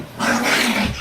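Dogs scuffling in a brief, close burst of low growling and snarling, steady over about a second with no talk.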